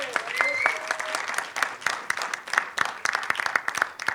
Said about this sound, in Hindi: गोविंदा जी के लिए जोरदार तालियां हो जाएं।